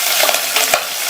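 Green chilies, dried chili and garlic sautéing in a pan, a brief loud sizzle with a couple of quick stirring scrapes, close up and with no voice.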